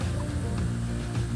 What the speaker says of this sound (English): Hello, little chickens.